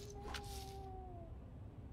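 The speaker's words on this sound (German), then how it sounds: "Du bist eine ganz schön große Katze, muss ich dazu sagen." A big cat in the Crime Scene Cleaner video game gives a single short, drawn-out meow that falls slightly in pitch and fades over about a second against a steady background hum.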